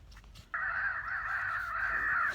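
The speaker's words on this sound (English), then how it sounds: "I can actually hear a crow." One long, sustained caw rings out outdoors during crow calling and trapping, starting abruptly and holding loud and steady to the end over a quiet background.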